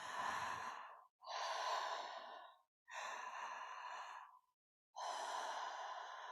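Slow, deep breaths are close and soft, alternating long inhales and exhales, each lasting about a second or more, with brief silent gaps between them during a breathwork session.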